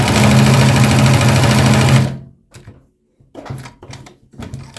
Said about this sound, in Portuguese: Deixa eu ligar a máquina, né? Senão não costura.